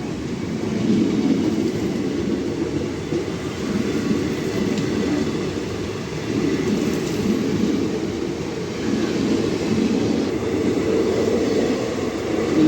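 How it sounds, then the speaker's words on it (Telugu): A train rolls past near Trivandrum Central station, its loud, steady rumble and wheel rattle swelling and easing in waves, close by for the whole stretch. "ఇంకో ట్రైన్ వచ్చింది."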